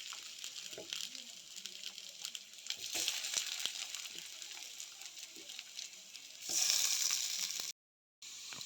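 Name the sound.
frying food in a pan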